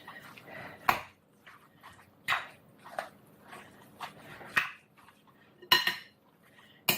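A spoon scrapes and clinks against a bowl while stuffed pepper filling is mixed into rice, a series of close, uneven clanks and scrapes with quiet gaps between.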